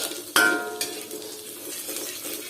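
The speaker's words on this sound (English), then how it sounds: "we are gonna saute the shallots" Shallots sautéing in a pan on a stovetop, opening with a sharp clank of a utensil on the pan, followed by a soft steady sizzle with light stirring, close by.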